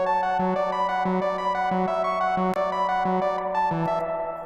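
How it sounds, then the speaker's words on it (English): A synthesizer played through tape echo and delay effects repeats a steady pulsing note pattern with a bright, sustained layered tone, loud and continuous throughout. "Tape echo, and then this like delay."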